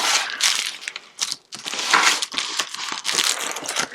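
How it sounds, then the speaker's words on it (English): Crumpled paper notes being handled, with repeated loud crinkling bursts and short pauses between them, close by, and no voices. "I have to laugh at the crumpliness of the notes that are in there"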